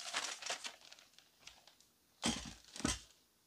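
A small baking sifter pulled from a plastic Ziploc bag in a home kitchen, giving sharp intermittent crinkles and rustles in short bursts, close and fairly quiet, with two louder crackling bursts near the end.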